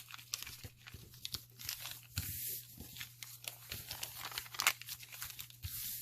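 Old paper map, stained and distressed for junk journal ephemera, crinkling and crunching as it is folded in three, with close, papery rustles and sharp creases against a faint steady hum.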